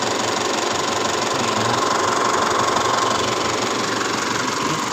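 A car engine idles just after starting, holding a steady, even running hum with a faint rhythmic knock throughout, close and unbroken.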